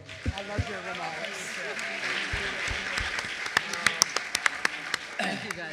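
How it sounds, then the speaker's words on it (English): An audience at a community forum applauds a panel, a dense wash of clapping that grows sharper toward the end, with talk over it. "Another round of applause for this amazing panel."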